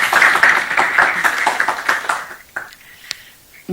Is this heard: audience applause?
yes